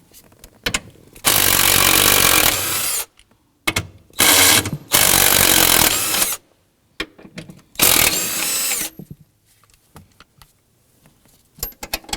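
A power tool buzzes loudly in several bursts of about one to two seconds while undoing the front seat bolts in a 2003-2014 Volvo XC90, with short pauses and faint clicks between runs.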